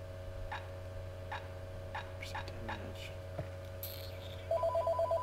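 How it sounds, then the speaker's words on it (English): A telephone rings in short repeated bursts near the end, sounding over a steady hum with faint background ticks and soft noises. "Had to take a phone call."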